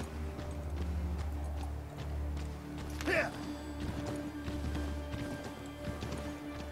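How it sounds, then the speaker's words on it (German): A horse gallops in the Assassin's Creed 3 video game, its rhythmic hoof clip-clop running steadily at moderate level, with a brief whinny-like cry midway and a quiet voice over part of it. "Mit dem Pferdchen geht's über Stock und Stein, tralala."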